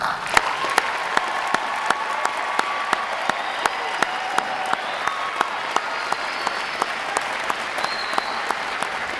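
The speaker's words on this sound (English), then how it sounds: "One more round of applause." Graduating Navy recruits at Great Lakes receive a sustained round of applause from a large crowd, steady dense clapping throughout with sharp individual claps standing out, no talk over it.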